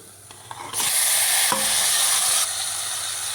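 Chopped tomatoes drop into a hot pan and break into a loud, steady sizzle as they sauté for parotta salna, with brief stirring scrapes, close up and without speech.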